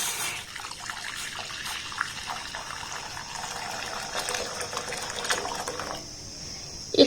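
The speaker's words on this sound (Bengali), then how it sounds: "এবার এখানে 700 লিকুইড দুধ আমি দিয়ে দেব।" Liquid milk, about 700 ml, poured into a cooking pan that already holds a little water, making a steady close gush and trickle that runs for about six seconds before stopping abruptly.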